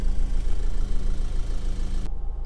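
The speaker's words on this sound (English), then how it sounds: "engine's running as it has been all the way through" A 2012 Honda Civic 2.2 i-DTEC diesel hatchback idles, a steady low rumble with a fine regular knock heard from close by, cutting abruptly near the end.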